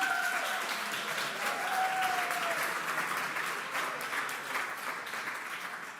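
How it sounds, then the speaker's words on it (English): An audience at a startup event applauds and cheers, with steady dense clapping and a few whoops rising over it. The sound is loud and sustained from start to finish. "They are cheering."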